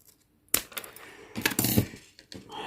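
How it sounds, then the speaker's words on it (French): Scissors snip through beige yarn while a crocheted amigurumi Santa's face is being finished: after a silent moment, a few sharp, close cutting clicks come in quick succession. "Je vais couper le fil beige."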